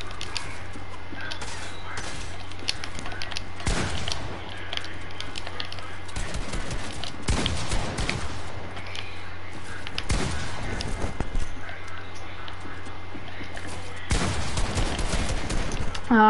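Bursts of gunfire in the video game Fortnite, repeated loud cracking shots in irregular clusters over a steady low game hum.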